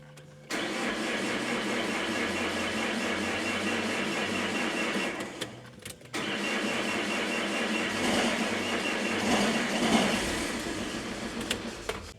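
A diesel car with hard-starting trouble cranks twice, each a steady close mechanical churning lasting several seconds. The second attempt builds into a rougher engine roar toward the end.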